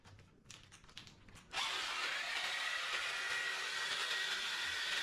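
A reciprocating saw with stripped, messed-up gears starts up after a quiet moment and runs at a steady loud whining buzz for several seconds, close by with no talking.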